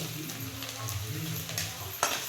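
Onions browning in a pan for a village-style kurdai dish, with a steady low sizzle and scraping stirs, a sharp utensil clack near the end, and a voice faintly present in the background.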